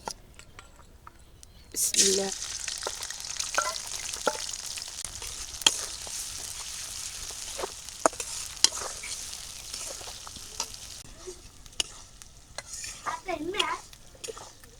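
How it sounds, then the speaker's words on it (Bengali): Shrimp with chopped onion and green chili fry in a pan for a village-style Bengali dish, a continuous sizzle broken by frequent scraping stirs and clacks of a spatula, with some talk partly over it. "চিংড়ি মাছ তারপর পিঁয়াজ কুচি আর হইলো মরিচ কুচি এই একসাথে দিয়ে দিলাম"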